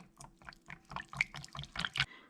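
Thick cold process soap batter being poured into a cup, a faint, close series of soft wet glugs and splashes in an uneven rhythm.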